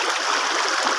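A flowing stream at night by a fishing spot, its steady, fairly close babble and trickle filling the clip without pause or voices.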